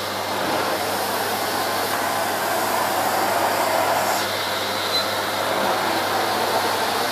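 A Miele S8 cylinder vacuum cleaner runs steadily and loudly as it is pushed back and forth over carpet picking up salt, a continuous broadband whooshing roar with slight shifts in tone and no talking.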